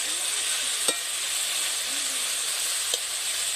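Chilli powder and slit green chillies are stirred in hot fish oil, producing a continuous loud sizzle with two brief scraping strokes.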